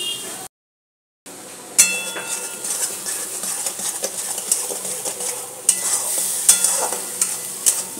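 Spice mix with turmeric, salt and sugar frying for begun bahar, a bright continuous sizzle with frequent metal scrapes and clinks of stirring in the pan, after a brief silent gap at the start.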